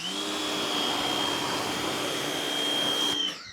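A Westinghouse pressure washer fitted with a green nozzle runs in a steady, loud whine with a high tonal pitch, holding constant for about three seconds before cutting off abruptly near the end.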